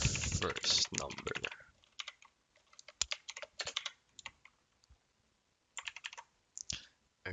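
Bursts of clicky typing on a computer keyboard while C++ code is entered, loud and busy at first, then sparse clusters of keystrokes with short pauses between them.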